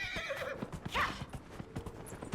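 Rhythmic hooves clip-clop quickly at a gallop, with a short horse whinny rising in the middle, fairly close, in the video game Dragon Age.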